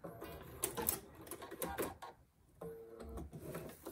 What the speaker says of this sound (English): So go ahead and stitch on your lines.